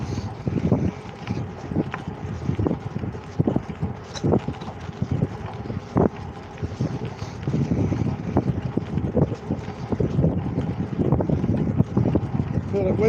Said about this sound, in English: Yeah, the wind's definitely in my face.